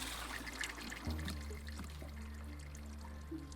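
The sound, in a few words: cold water for a tea brew, Wanderstop video game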